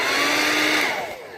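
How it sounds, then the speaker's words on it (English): A hair dryer blows steady, close, loud hot air onto a small chip in a car windshield to help repair resin seep into the cracks, easing off slightly toward the end. "hair dryer like this"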